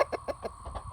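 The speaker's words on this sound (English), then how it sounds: "So we've got our daily chickens here." Farm chickens cluck in a quick, rhythmic series of soft, close calls, about six in a second against a quiet background.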